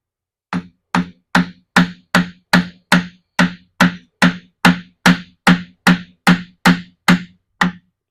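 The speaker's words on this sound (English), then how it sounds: "I'm going to just very gently tap the shaft on the other side with a soft hammer." A soft hammer taps the shaft of a W.F. & John Barnes 34-inch drill press, about sixteen evenly spaced, sharp knocks close by with no talk.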